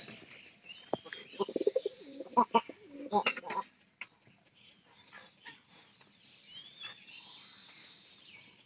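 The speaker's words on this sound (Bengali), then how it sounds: "এই কবুতর গুলা ছাইড়া দিলে ওই পাশের কবুতর আছে" Pigeons coo and rustle close by, a cluster of calls and flutters early on, then quieter scattered sounds, with some faint speech in the background.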